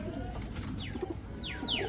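Domestic pigeons in an aviary coo softly in repeated low murmurs. Brighter bird chirps cut in now and then over steady background noise, and no one speaks.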